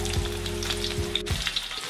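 Shallots and garlic stir-frying in a hot wok give a close, steady sizzle with a low hum, broken by a few scraping stirs of the spatula.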